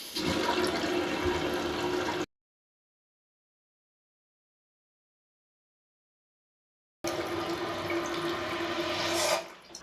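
Water rushes steadily into a toilet tank through a newly installed fill valve, a close, continuous hiss and gurgle that cuts out abruptly for several seconds, then resumes and swells slightly before ending.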